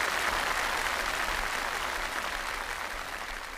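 Audience applause at a Chinese comedy crosstalk show, a dense steady wash of clapping that slowly fades toward the end.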